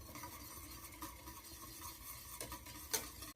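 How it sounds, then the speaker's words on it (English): A spoon stirs a vegan mac and cheese sauce in a pot, making a faint, steady scraping swirl with a light clink near the end. "Give it a little mix again"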